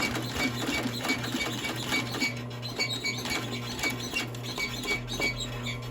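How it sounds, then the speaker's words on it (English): An old Adler cylinder arm sewing machine, roughly thirty years old, runs steadily at close range with a rapid mechanical stitching rhythm, a constant hum and light clicking throughout. "This is a cylinder arm machine, Adler"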